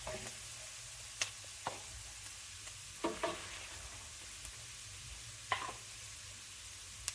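Vegetables frying in a pot for a vegetarian rice dish, a faint steady sizzle broken by a few sharp clinks and scrapes of stirring, with no talking.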